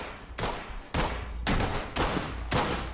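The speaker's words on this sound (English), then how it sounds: "I don't know where he's shooting from" Gunfire in the tactical shooter Ready or Not, five loud, evenly spaced bursts of rapid shots roughly half a second apart, each cutting off into a short tail, with no talk over them.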